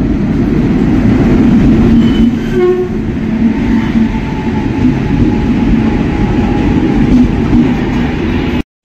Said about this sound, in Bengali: 13053 কুলিক এক্সপ্রেস ঢুকছে আমাদের এখন রামপুরহাট জাংশনে।